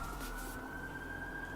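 Police siren in a stream's game audio, a steady, sustained wail held loud at one pitch throughout with no talk.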